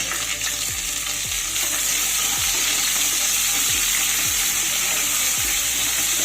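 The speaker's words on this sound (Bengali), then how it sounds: "পেঁয়াজটাকে কিছুক্ষণ ভেজে নিতে হবে পেঁয়াজটাকে এক মিনিট মতো ভেজে নিলাম" Chopped onion frying in hot oil in a pan makes a loud, continuous sizzle, with repeated spatula strokes sweeping through it at a steady pace and no voices.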